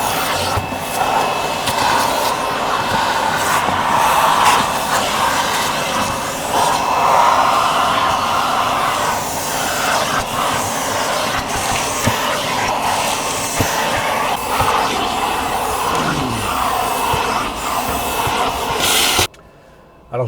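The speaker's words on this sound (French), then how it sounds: "l'aspirateur du voisin fait beaucoup de bruit" A neighbour's vacuum cleaner runs at a public self-service car wash, heard from inside a closed car as a loud, continuous droning rush that holds steady for about nineteen seconds before cutting off abruptly.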